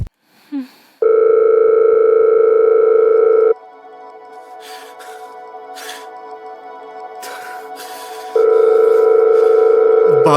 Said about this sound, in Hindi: बाबा जी, फोन उठाओ।